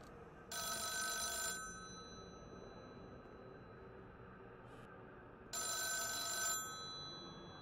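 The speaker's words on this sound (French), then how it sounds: "Téléphone, je le vois pas." An old telephone bell rings in The Town of Light game, two bursts of electric trilling separated by several seconds of quiet room hum, close and clear.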